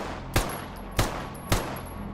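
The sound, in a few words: Fort pistol firing in the video game G.A.M.M.A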